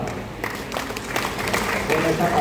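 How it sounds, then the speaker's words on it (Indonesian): An audience at an anti-narcotics declaration and evidence destruction event in Sampang gives a short burst of steady clapping, with voices mixed in. "Tepuk tangan buat Sampang"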